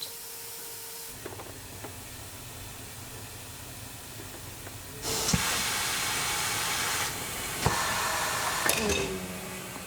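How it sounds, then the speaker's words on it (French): A 1950 extrusion blow molding machine making doll parts gives a steady hiss that swells into a louder blast of air halfway through, with a few sharp clicks and knocks over the continuous noise. "L'extrudeuse souffleuse date de 1950."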